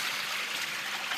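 Water circulates through a water wheel in a gold panning area, a continuous broad rushing and trickling wash that sounds close and steady, with no voices.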